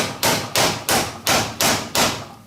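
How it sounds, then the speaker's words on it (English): Six evenly spaced metallic hammer taps ring out in a steady rhythm, each strike sharp and close, as a punch drives the rear axle out of a Harley-Davidson motorcycle wheel. "you're putting it right in that hole and you're just tapping that right on through"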